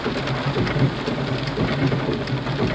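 Heavy rain pours steadily during a violent storm in Rethymno, Crete, a dense close hiss of drops hitting surfaces with low rumbling underneath throughout.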